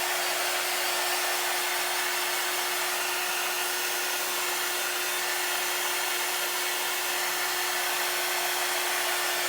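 A hair dryer runs steadily throughout, drying chalk paste on a gnome figure: a loud, continuous blowing whoosh with a constant motor whine and no pauses.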